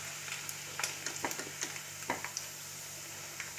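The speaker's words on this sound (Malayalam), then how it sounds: "ചിക്കൻ നന്നായിട്ട് റോസ്റ്റ് ആയിട്ടുണ്ട് കേട്ടോ" Chicken frying in hot oil in a pan for a chicken fry, with a steady hiss of sizzling and soft scattered pops and stirring clicks, close but fairly quiet and without any talk.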